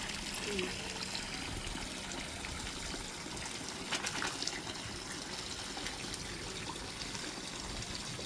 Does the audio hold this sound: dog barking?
no